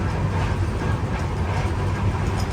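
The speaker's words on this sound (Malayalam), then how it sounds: "Mysuru MGR Chennai central Vande Bharat. അതിപ്പോൾ ഇവിടെ വരും." A Mysuru–Chennai Vande Bharat express rushing past at speed, heard from inside another moving train: a loud, steady roar of wheels and wind with deep rumble throughout.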